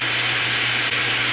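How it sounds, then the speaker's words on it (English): A Dyson Supersonic hair dryer blows with a steady, loud airy whoosh and a low hum throughout. "here's the sound of the Dyson dryer"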